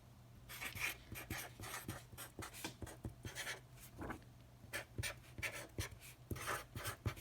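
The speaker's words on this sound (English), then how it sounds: "I'm just writing it out here." Pen or pencil writing out math problems by hand, a close, quiet series of scratchy strokes in irregular bursts with brief pauses between them.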